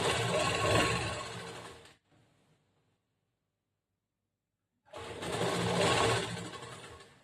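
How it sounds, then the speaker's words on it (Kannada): An electric sewing machine stitches a blouse seam in two bursts of rapid, close mechanical whirring, separated by a few seconds of near silence. "ಅದಕ್ಕೆ ಇಲ್ಲಿ ಕೂಡ ಅಷ್ಟೇ 1/2 ಇಂಚ್ಗೆ ಫಸ್ಟ್ ಒಂದು ಸ್ಟಿಚಿಂಗ್ ಮಾಡಬೇಕು, ಒಂದು ಹೊಲಿಗೆ ಹಾಕಬೇಕು"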